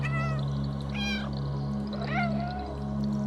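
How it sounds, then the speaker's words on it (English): A game cat meows in Stray, giving three distinct drawn-out mews spaced about a second apart over a steady low electronic hum; close and clear, with no talking. "There's a meow button"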